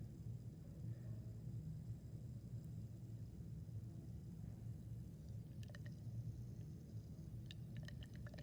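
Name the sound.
little bubbles from hydrochloric acid reacting with aluminum foil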